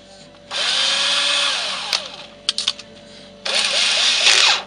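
A power drill running with a drill bit fitted for a small storage organizer build, two sustained whirring bursts up close separated by short clicks and taps.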